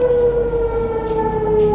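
A loud, steady wailing siren holding a sustained tone, heard alone and fairly near, with a slight downward drift in pitch, sounding the end of the daily fast during Ramadan.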